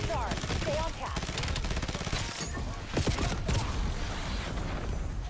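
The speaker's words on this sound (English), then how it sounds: "Just shots." Rapid gunfire in a Call of Duty match, dense bursts of shots and booms packed together at close range, with game voice chatter mixed underneath.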